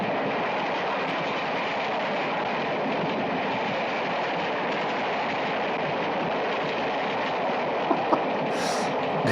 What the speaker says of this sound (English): This train is still traveling from right to left.